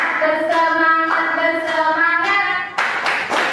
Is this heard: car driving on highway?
no